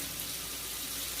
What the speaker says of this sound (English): So I'm going to do my faucet.